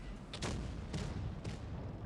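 Three tank cannon shots in the game WoT Blitz, from a Progetto 46, each a short sharp boom spaced about half a second apart over a low rumbling background, with no talk.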